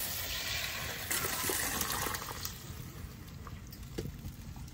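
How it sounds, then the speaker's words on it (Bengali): Bhetki fish curry with plenty of gravy being poured from a pan, giving a steady watery gush and splash with a few light clinks, fairly close and continuous. "আমি এখন তুলে নিচ্ছি তরকারি।"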